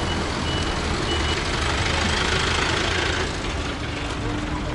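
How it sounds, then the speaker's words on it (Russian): Small garbage collection vehicle reversing along a seaside embankment in Alanya, Turkey: steady repeating backup beeps over an idling engine, set in dense outdoor crowd and street noise with people talking. "Вот такие вот маленькие машинки ездят на набережной и собирают мусор"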